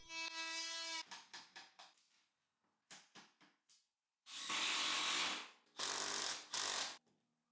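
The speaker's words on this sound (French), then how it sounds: "Je vais devoir découper une partie du cadre de la fenêtre pour qu'il soit bien aligné contre le mur." A power tool cuts into part of a window frame with short stop-start buzzing bursts, then longer loud rasping runs close by, separated by brief silences.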